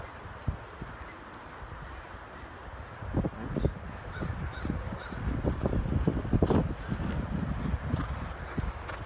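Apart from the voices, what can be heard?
racehorse galloping hooves on track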